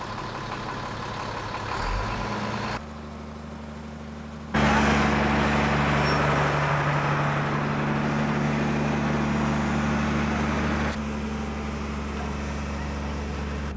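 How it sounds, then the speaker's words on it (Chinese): A large truck travels at night with a low, droning engine rumble that holds steady, shifting abruptly in level a few times, moderately loud and without speech. "而这辆夜半赶路的大卡车"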